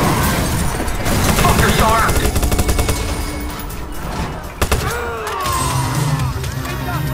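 Gunfire in the video game Watch Dogs, a dense crackle of shots rattling through a busy mix of engine noise and game effects, with a sharp burst near the middle and talk over parts of it.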